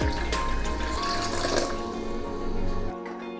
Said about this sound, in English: Here goes 1 cup of water.